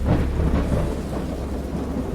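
Thunder rumbles heavily through steady pouring rain in a stormy scene from a Lovecraft visual novel, Dagon, a dense, loud, continuous wash of low booming and hiss with no voices.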